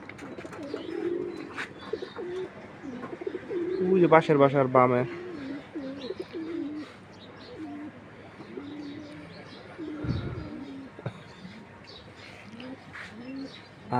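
Pigeons cooing nearby in a rooftop flock, with several soft, repeated coos and a brief burst of calls, heard under a person talking on and off.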